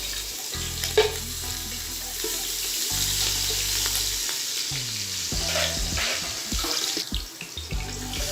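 Ginger paste frying in a pot for mutton nalli pulao, a steady close sizzle and hiss with occasional stirring scrapes and clinks, no talking.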